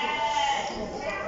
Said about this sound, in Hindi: माशाल्लाह जमुनापारी बकरी है भाई।